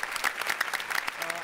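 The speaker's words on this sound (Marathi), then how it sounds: "खरंच जोरदार टाळ्या झाल्या चैतन्यासाठी." Audience applause for a performer on a comedy show stage, a short burst of brisk clapping from a crowd, fairly close and lively.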